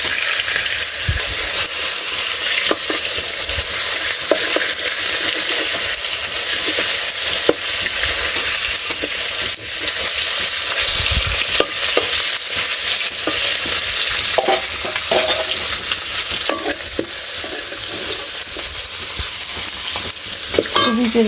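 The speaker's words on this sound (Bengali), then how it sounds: "আর এদিকে এই চুলাই মাছের মাথাটা ভাজা হবে নিচ্ছে।" A fish head frying in a pan on a village stove, a continuous loud sizzle with frequent stirring and scraping clatter throughout, no talking.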